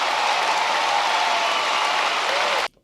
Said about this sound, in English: I don't know what the applause part is.